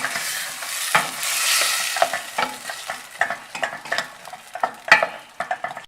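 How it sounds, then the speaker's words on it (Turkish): Leeks stirred while sautéing in a pan with garlic, a steady sizzle broken by repeated scraping strokes of a spoon, close and clear, with no voices. "İki dakikada öyle kavrulacak. İşte karıştırayım."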